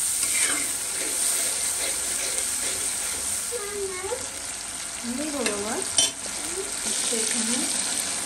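Spice paste with ginger and garlic fries in a pan with a steady hiss, stirred now and then with a clinking utensil; a voice talks faintly in the background.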